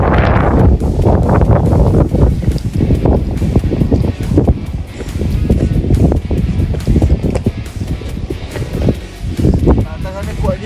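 Strong gusting wind buffets the microphone on the foggy eastern summit of Mount Sibayak in North Sumatra, a steady loud roar with surging gusts while hikers talk over it.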